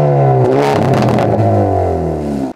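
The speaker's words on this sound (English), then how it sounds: "those Canon exhaust pipes out the back, which sound better than ever" A 2024 Hyundai i30 Sedan N's engine revs up sharply close by with a throaty exhaust roar, then settles and cuts off abruptly.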